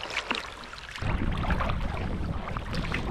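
A kayak paddle dips and pushes through water on a foggy crossing of Mt. Desert Narrows in Maine, making a steady close wash and swish with light wind noise and no voices.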